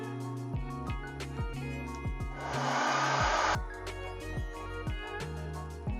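A hot-air blower heats a 3M sticky pad for a Shoei helmet microphone mount, giving one steady, airy rush of about a second over continuous background music.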